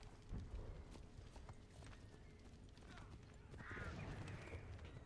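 Horse hooves clip-clop in Assassin's Creed III, a run of steady hoofbeats at moderate distance with a faint whinny, under low background game sound.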